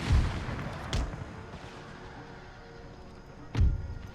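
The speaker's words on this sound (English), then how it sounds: "I can now order this gun to open fire, which I am, to their cavalry" Cannon fire on cavalry in Empire: Total War's Battle of Lesnaya, with heavy booming shots at the start, near one second and again near three and a half seconds, each dying into rumbling battle noise.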